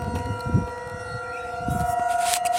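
An alert and attack tornado siren sounds during a statewide drill test in Racine, Wisconsin, a steady distant wail holding one tone, rising slightly toward the end.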